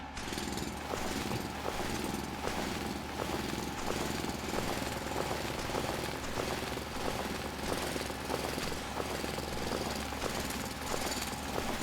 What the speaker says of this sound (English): And then we need to drill out some of this sand.